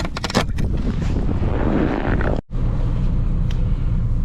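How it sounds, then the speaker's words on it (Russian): A tractor drives home through deep drifted snow in a blizzard after ice fishing, its engine a steady close rumble mixed with wind buffeting and a brief dropout midway. "Едем домой на тракторе опять."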